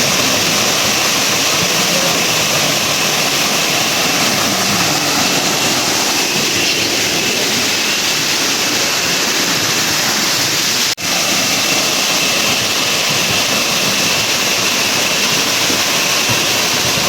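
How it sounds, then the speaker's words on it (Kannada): Soorimane Falls, a waterfall running low on water, heard up close as a loud, steady roar of falling water that fills the whole stretch, briefly interrupted by a single click. "ಇದುವೇ ಫಾಲ್ಸ್ ಸೂರಿಮನೆ ಫಾಲ್ಸ್"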